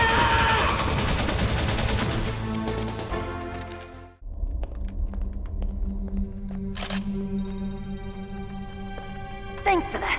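Gunfire in a Metal Gear Solid cutscene: a rapid burst of shots crackles over a dense musical score, then sharp single reports ring out sparsely against a quieter backdrop, with voices speaking in between.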